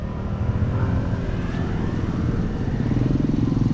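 A motorcycle moves along GMA-Carmona Road, squeezing through a narrow gap left by debris after a dump truck crash. Its engine puts out a steady, pulsing rumble at moderate distance, holding evenly for several seconds.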